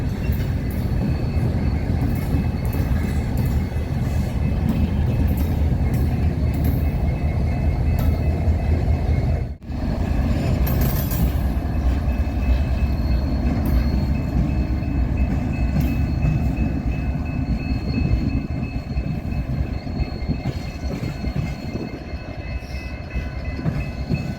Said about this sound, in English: A lot of locomotives.